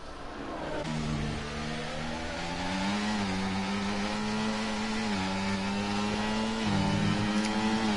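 A Formula Regional race car engine screams at full revs in a sustained high-pitched whine, briefly dipping with gear shifts before climbing again.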